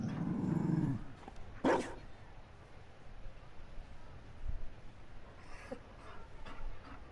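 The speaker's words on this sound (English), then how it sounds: "You found a dog." A Mabari war dog in the Dragon Age Inquisition video game lets out a low growl and a sharp bark, then a few fainter yips over quiet background ambience.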